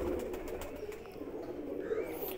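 Pet pigeons kept as a hobby coo softly and continuously at close range, a low throaty murmur with faint background chirps and no talking.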